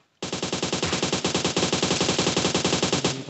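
Rapid automatic gunfire in an online shooter match, one long sustained burst of evenly spaced loud shots with a short pause midway, ending abruptly.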